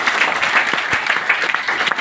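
A crowd at a gathering breaks into loud applause, dense and continuous clapping close by that fills the whole short stretch.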